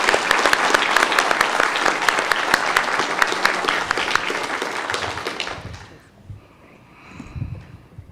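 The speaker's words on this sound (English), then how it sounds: "Round of applause for all of our spellers" An audience at a 5th and 6th grade county spelling bee gives a dense burst of clapping for the spellers that lasts about six seconds and then fades into quiet room noise.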